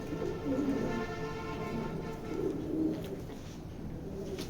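A female racing pigeon coos in soft, low, repeated throaty phrases close by, steady background hum underneath.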